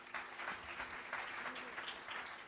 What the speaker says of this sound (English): Let's help them with a nice round of applause.